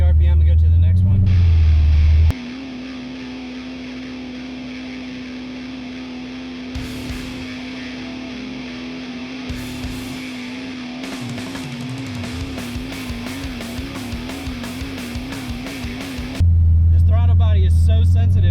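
An LS-swapped RX7 engine is held at a steady RPM during tuning, giving a constant droning hum with faint wavering. Someone talks over it, and louder engine bursts open and close the stretch.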